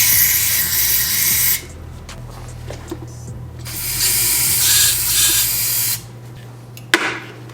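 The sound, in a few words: spraying cleaner into an RB25DET idle air control valve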